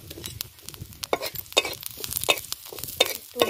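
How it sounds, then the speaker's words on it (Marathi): Coriander seeds roast in a little oil in a pan, heard as a soft crackle with a series of brisk scraping stir strokes, close and fairly quiet, with no speech. "आता धन्यावर आपल्याला थोडस तेल टाकायचं साईडनी"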